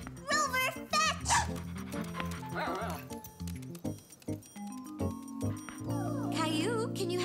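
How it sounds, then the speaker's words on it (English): A cartoon dog yips and barks in quick bursts between stretches of panting, mixed with children's voices talking and a bright musical score underneath. "Grandma was babysitting Caillou's favorite dog, Rover."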